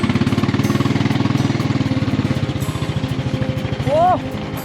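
A motorbike engine chugs in a steady, rapid pulse while the bike climbs over big rocks on a rough mountain trail in Lahaul, loud and close, with a short rising whine near the end.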